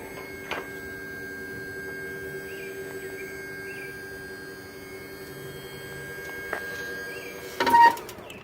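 A wheelchair lift on a 2004 Ford Econoline E-150 XL van runs with a steady electric motor hum and a faint whine, a sharp click near the start and another later, then a louder clunk as it stops.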